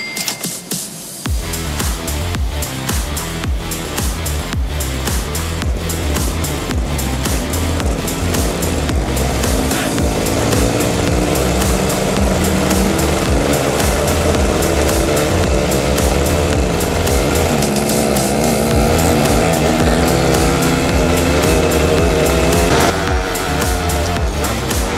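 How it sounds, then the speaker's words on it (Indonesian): A motorcycle taxi (ojek) climbs uphill toward the first post on Mount Sumbing, its engine a loud, steady drone mixed with wind buffeting, continuous and close throughout with no voices. "dari sini sampai pos 1 kita bakal ngojek"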